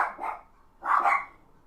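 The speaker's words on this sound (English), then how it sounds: "Excuse my barky dogs." Dogs bark indoors at someone mowing the lawn outside, giving two barks about a second apart, moderately loud and close, with no talking.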